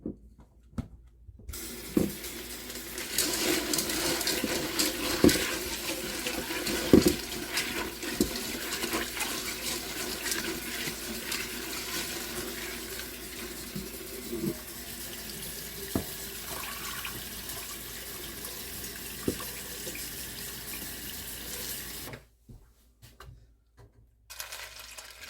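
Tap water runs steadily for about twenty seconds while dried beans are rinsed in a pot, a continuous hissing splash with occasional knocks, then the flow shuts off near the end.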